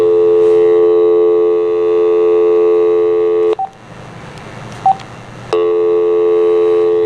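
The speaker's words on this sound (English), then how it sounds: "Let's see if we get a dial tone." Steady telephone dial tone on a MagicJack internet phone line, loud and continuous, broken midway by a few seconds of handset noise with two short beeps before the tone returns.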